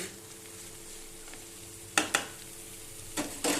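Ivy gourd and tomato curry sizzles softly in a pan as a spoon stirs it, with a few sharp scraping clinks of utensil against the pan over a low steady fry.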